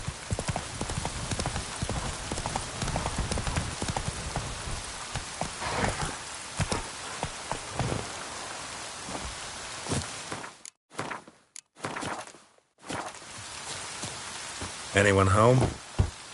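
Steady rain in the video game The Witcher 3 patters across the whole scene, mixed with hoofbeats and footsteps and a few brief dropouts, while a voice briefly speaks near the end.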